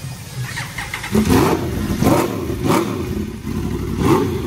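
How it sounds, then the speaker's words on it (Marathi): A newly booked car's exhaust revving at a dealership, a nearby engine climbing in repeated throaty surges roughly every second over a steady idle, loud and without talk. "तिचा आता एक्झॉस्ट ऐका तुम्ही."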